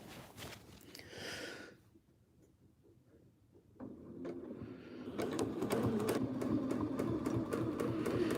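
A sewing machine runs for free motion quilting, its motor hum and rapid needle rattle faint at first, pausing briefly, then building into a steady, busier stitching run that continues to the end.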